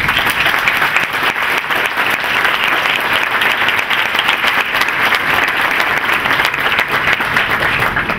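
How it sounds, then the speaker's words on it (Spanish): A crowd applauding steadily, dense and loud clapping that holds at an even level throughout. "para todos ellos les pido un muy fuerte aplauso"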